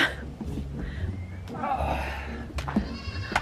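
Goats bleat several times in short, nasal cries, with people talking and moving around nearby.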